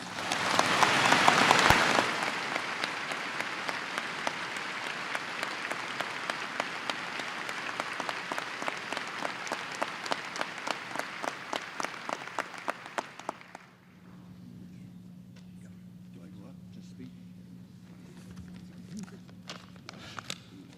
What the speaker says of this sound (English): So I'd like you to join me in a round of applause in honoring their service.